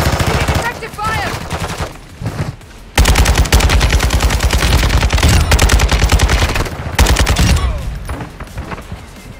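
Sustained automatic gunfire from a video game, loud and dense rapid bursts with brief gaps, a short pause near three seconds before heavy firing resumes and continues to the end.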